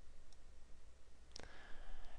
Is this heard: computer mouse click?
yes